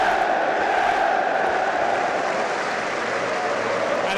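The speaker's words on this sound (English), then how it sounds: "the crowd stands in unison to applaud" A packed football stadium crowd at Liverpool stands and applauds Jürgen Klopp at his farewell after the match against Wolves, a dense, continuous roar of clapping and cheering that fills the whole stretch evenly.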